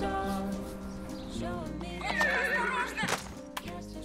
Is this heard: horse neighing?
yes